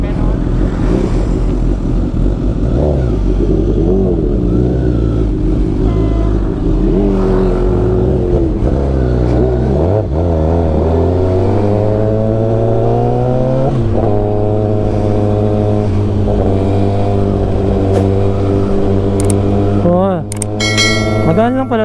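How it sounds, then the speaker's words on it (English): A Suzuki GSX-S 1000 motorcycle engine runs loudly and close throughout a ride, its pitch rising and falling through repeated revs and gear changes, with a few clinks near the end. "Suzuki GSXS 1000 first ride impression."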